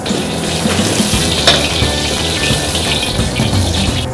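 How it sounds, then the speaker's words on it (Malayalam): Sizzling in a pan as sunflower oil goes in to start a sauce for fried squid, a steady loud hiss and crackle that runs unbroken throughout with no talking. "സൺഫ്ലവർ ഓയിൽ ചേർക്കുക."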